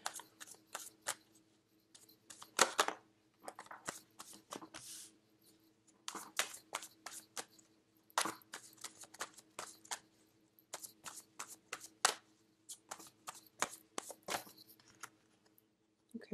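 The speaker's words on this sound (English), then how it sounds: "I'm going to pull out four cards" Tarot cards are shuffled and drawn in quick bursts of soft flicks and riffles, with short pauses between handfuls. The sound is close and fairly quiet, with no voices.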